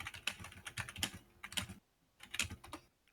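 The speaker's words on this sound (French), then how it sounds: "On entend ton clavier" Rapid clicking of computer keyboard keys in bursts, a brief pause, then more taps; close and quiet.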